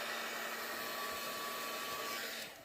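Hair dryer blowing steadily and close on a watercolor painting of a misty snowy mountain landscape, a constant broadband whoosh with a faint motor whine that runs unbroken and starts to fade at the very end.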